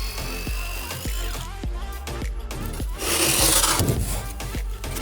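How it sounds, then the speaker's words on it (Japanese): Hand saw cutting through 100 mm insulation board after a circular-saw pass on one side, rapid rhythmic rasping strokes, close and loud, building to a denser scraping burst near the end. "片面だけ丸ノコを通したものを手ノコで切るのが一番効率的でした"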